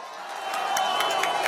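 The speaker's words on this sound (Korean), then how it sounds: "박수로 환영해 주십시오." Studio audience at a televised Korean political panel show clapping and cheering in welcome, a steady dense wash of applause with a few sharper shouts rising slightly louder toward the end.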